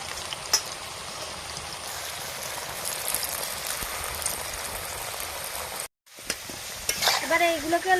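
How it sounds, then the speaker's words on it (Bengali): Spiced potato pieces deep fry in hot oil with a steady, dense sizzle throughout, broken by a brief silent gap before the crackling resumes louder with some bubbling and clinks near the end. "এবারে এইগুলোকে লাল লাল করে আমি ভেজে নেব।"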